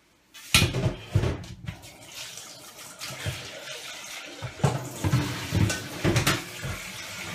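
Water poured from a jug into a Thermomix TM5 mixing bowl, splashing and gurgling in uneven bursts close to the microphone, about 1.5 litres filling the bowl.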